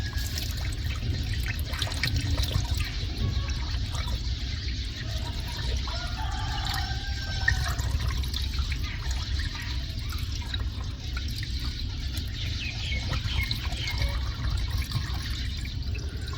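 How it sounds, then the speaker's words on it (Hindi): Water is poured into an electric water pump motor that has run dry, a steady trickling, gurgling flow under low rumbling background noise, with no talking. "अब बिस्मिल्लाह पढ़कर मोटर के अंदर पानी डालेंगे।"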